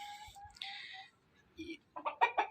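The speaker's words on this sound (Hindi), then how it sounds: "ये देखें, आपको ये मुर्गियाँ भी दिखाता हूँ।" Chickens on a village farm in Mardan, including a young fighting rooster, give a few soft clucks and calls, with a louder burst of clucking toward the end.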